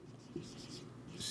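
Handwriting on paper or a board while working through an accounting lesson, soft steady scratchy strokes, close and quiet, with a faint voice in the background.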